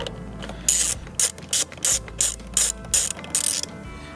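A hand ratchet tightens the bolts of a Touratech crash bar on a BMW R1300GS, giving about eight sharp clicking bursts in an even rhythm, close and loud.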